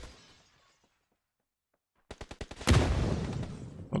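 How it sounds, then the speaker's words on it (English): Grenade explosion in PUBG New State Mobile during an esports league squad match: after a quiet lull, a rapid string of sharp cracks gives way to a loud, close blast whose rough noise lingers to the end. "Pulls off another nade."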